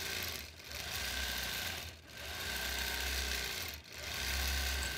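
A sewing machine stitches across a thick quilt seam allowance, a steady close mechanical whir with three brief dips in speed and no talking.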